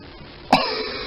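A single sharp cough bursts out close and clear after a moment of quiet background, then trails off.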